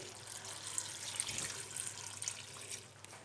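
About a litre of water pours into a pot of chickpeas, a soft continuous splashing stream heard close but faint, steady from start to finish.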